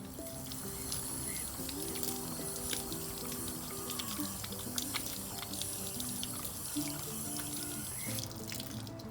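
A dog laps water flowing from a Cool Pup nozzle as she pushes on it, a steady close trickle and splash running continuously with small drips and mouth sounds mixed in.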